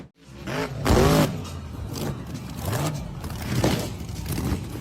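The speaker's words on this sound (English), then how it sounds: "the driver accelerated and managed to regain control" An off-road buggy engine accelerates hard, rising and falling in loud revving bursts with no pause through the stretch, mixed with rough rumbling from the dirt track.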